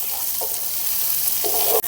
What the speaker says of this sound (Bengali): ক্যাপসিকামগুলো দেওয়ার পরে সামান্য একটু ভাজা ভাজা করে নিয়েছি।